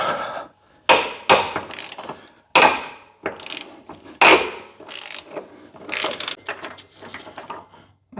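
A wrench and breaker bar working loose a tightly torqued rear subframe bolt on a BMW 340i, loud close ratcheting clicks and metallic knocks in irregular bursts with brief pauses between.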